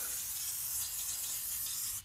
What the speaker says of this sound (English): Silicone spray.